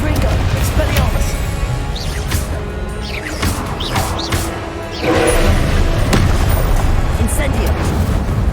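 Blasting-spell explosions from Confringo cast in the Hogwarts Legacy video game, heavy booming bursts and crashes over dense battle noise, with a louder surge midway and voices calling spells throughout.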